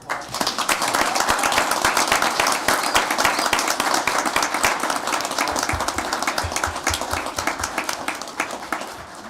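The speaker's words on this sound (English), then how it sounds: "Let's give him a round of applause." A round of applause fills a town board of commissioners meeting, many hands clapping steadily and fairly loud for several seconds, with a few sharper claps near the end as it tapers off.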